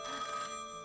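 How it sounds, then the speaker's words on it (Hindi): A telephone bell rings steadily in a room for a moment, a bright electronic trill heard on its own without any talk. "ये लीजिए, साहब का फोन भी आ गया।"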